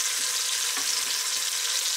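Pork ribs browning in a hot pan give a steady, loud frying sizzle with broad hiss that holds evenly throughout, with faint stirring or shifting underneath and no voices.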